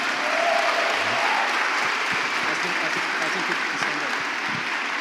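A church congregation applauds a visiting team from the United States with sustained, dense clapping from a large crowd that stays loud and steady from start to finish.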